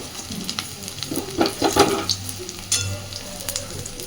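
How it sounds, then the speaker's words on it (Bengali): Chorbi bora, fat fritters, fry in a little oil with a close, crackling sizzle. Spatters and small scraping taps run through the hiss, with no voices. "খুব অল্প তেল দিয়ে কিন্তু আমি চর্বির বড়াগুলো ভাজছি।"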